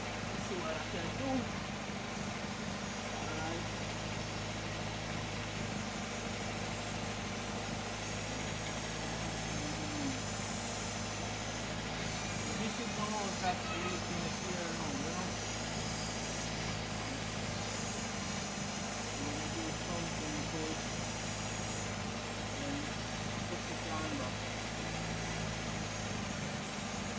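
A car engine idles steadily during throttle body cleaning work, a constant low hum with a droning tone that holds unchanged for nearly half a minute, close by and moderately loud.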